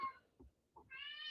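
Hungry house cats meow at breakfast time, with a couple of faint, close meows between quieter soft vocal sounds.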